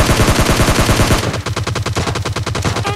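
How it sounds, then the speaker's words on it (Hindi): Rapid automatic gunfire from enemy players in PUBG Lite, loud, dense bursts of shots in quick rhythm, continuing steadily through the moment without talk. "अब सामने की तरफ मुझे बंदों का गन साउंड आते हैं"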